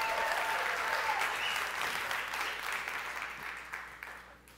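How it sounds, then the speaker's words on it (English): An audience at a 2015 Oculus Rift press event applauds steadily, a dense wash of clapping that slowly fades toward the end. "Come on, let's clap."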